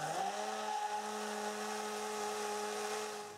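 Small battery-powered stick blender whizzing indigo dye into oil for green cold-process soap, a steady high motor whine that quickly ramps up and holds, close and alone before tapering off.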